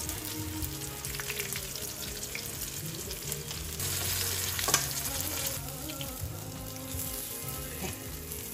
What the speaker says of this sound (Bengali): আমি মাছটাকে একটু কড়া করেই ভেজে নেব। ভাজা হতে থাক